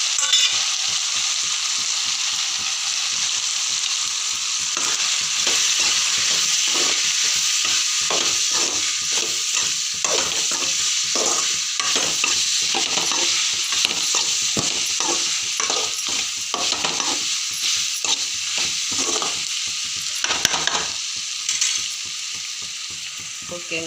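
Drumstick pieces fry and sizzle in a pan with chili, turmeric and coriander powder for a tamarind curry, a steady hiss broken by repeated scraping stirs, close up with no talking.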